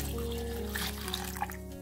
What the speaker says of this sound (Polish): Krewetki zalewamy gorącą wodą